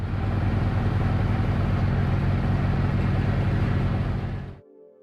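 A 1963 John Deere tractor's 404 cubic inch fuel-injected six-cylinder diesel hums in a smooth, steady drone, loud and continuous, then cuts off abruptly near the end leaving a faint low tail.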